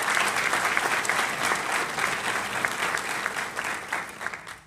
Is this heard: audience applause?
yes